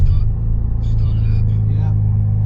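A car engine running with a loud, steady low hum close by, and a brief voice heard over it.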